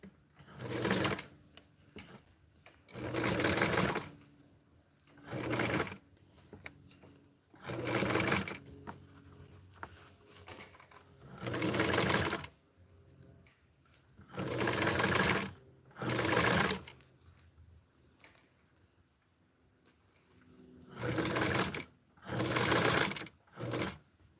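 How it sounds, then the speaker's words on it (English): A sewing machine hems a dress, whirring in about a dozen distinct bursts of a second or two each, separated by quiet gaps while the fabric is repositioned. "I'm going to sew the hem"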